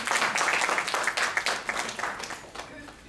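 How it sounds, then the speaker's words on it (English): An audience applauds a young handwashing hero, with dense clapping holding steady throughout and mid-distance. "Let's give her a big round of applause"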